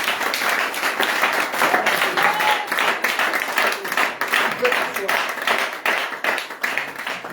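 A church congregation applauds with steady, rhythmic clapping that carries on throughout, mixed with voices.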